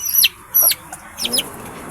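Small high-pitched red junglefowl chick peeps, a few short bursts spaced irregularly, close by with a quiet background.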